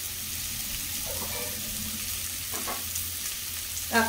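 Dried red chillies, bay leaf and cashews fry in a pan for butter chicken with a steady, close sizzle and a few soft stirring scrapes. No one speaks.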